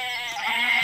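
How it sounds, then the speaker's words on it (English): Goats bleat in the Barbie Horse Adventures video game, a single nasal, wavering cry lasting under a second, close and fairly loud with no talk over it. "They're satanic goats."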